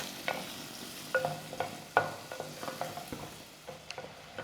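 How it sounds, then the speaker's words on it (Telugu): Onions and green chillies fry quietly in a pan, with soft scattered taps and scrapes of a spoon stirring them over a faint, low sizzle. "ఉల్లిపాయలు, పచ్చిమిరపకాయలు రంగు మారే వరకు వేపుకున్నాం"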